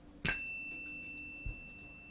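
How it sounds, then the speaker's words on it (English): Single bell chime struck once, a bright ringing tone that sustains and slowly fades in a quiet room, with a soft thump a moment later. "I'm going to chime my bell in 3, 2, 1"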